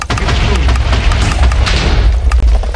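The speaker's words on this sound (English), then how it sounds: "Explosion." A TNT block detonates in Minecraft with a loud, deep boom that rolls on as a dense rumble and crackle, filling the whole moment with no quiet gaps.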